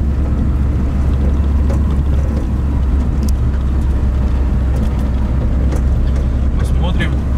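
A car drives through golden fields in a Ural village, a loud, steady engine and road rumble that holds throughout with light rattles and no talk.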